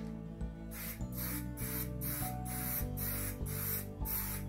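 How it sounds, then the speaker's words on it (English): Metallic copper paint sprayed onto the backboard of a furniture piece, heard as repeated hissing bursts of roughly half a second each in a steady rhythm, close and fairly loud over a low steady hum. "I'm really not worried if we have a little bit of overspray with this."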